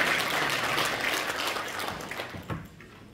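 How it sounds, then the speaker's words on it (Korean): Audience at an environmental awards ceremony applauding in a steady wash of many hands clapping, loud at first and gradually thinning toward the end. "박수로 환영해 주시기 바랍니다"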